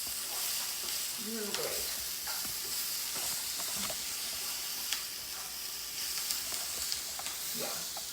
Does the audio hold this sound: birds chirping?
no